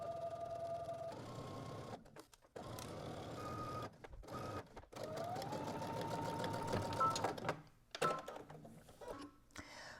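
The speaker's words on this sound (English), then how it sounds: "we're going to go ahead and stitch all the way around using 5/8 of an inch seam allowance" A home sewing machine runs steadily as it stitches a 5/8-inch seam all the way around a garment piece, its motor whirring continuously with a few short pauses and restarts.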